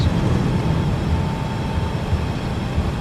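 Airliner thrust reversers on landing in a flight simulator game, a loud, steady broadband engine roar with deep rumble, continuous throughout without talk.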